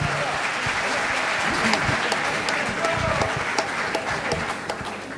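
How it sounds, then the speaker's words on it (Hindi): A live audience claps loudly to welcome radio presenter Ameen Sayani onto the stage at a live show, a dense, steady applause that fills the whole stretch with scattered cheers. "अमीन सायानी जी का जोरदार तालियों के साथ स्वागत"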